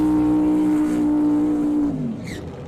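Supercharged 526 Hemi in a 1957 Chevrolet dragster holding a loud, steady high rev up close, then dropping off abruptly near the end.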